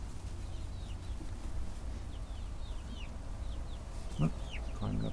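Backyard chickens cluck and chirp in short repeated calls close by, with a steady low rumble underneath and no talking.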